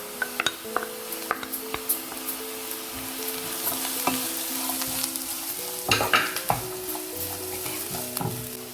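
Sliced onions fry in an oiled pan for a prawn roast, a steady close sizzle broken by repeated scraping and clinking of a spoon stirring against the pan.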